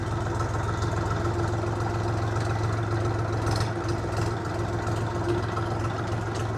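A steady, rumbling three-cylinder engine of a Scout XT244 tractor idles close by, its low even drone unchanging throughout, with no talking.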